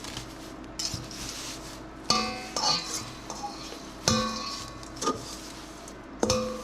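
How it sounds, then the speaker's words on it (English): A knife chops through stinging nettle plants mixed with sugar on a hard surface, several distinct knocking cuts spaced a second or so apart against quiet background noise. "I'm going to cut it with the knife just to break open some of the leaves"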